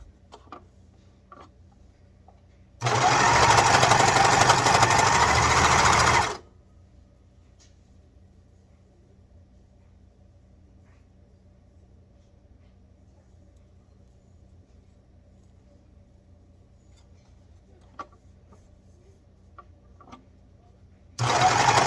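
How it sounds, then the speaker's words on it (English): A serger sewing machine overlocks fabric shirt cuffs in one loud, steady whirring burst of about three seconds, then quiet room tone with faint clicks before a second run starts at the very end. "let's serge our cuffs"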